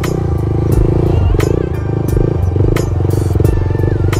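A motorcycle with a stock idle around 2000 rpm holds a steady, loud, close engine drone with small throttle pulses while riding a tight circle wheelie, the rider speaking over the running bike.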